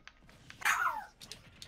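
A dog in a video game gives one sharp, close yelping bark that slides downward, with faint game sounds around it and no talk.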